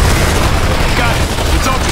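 Dense, loud gunfire and booming explosions fill a battle in the video game Gears of War 2, a continuous rumbling barrage with voices shouting over it.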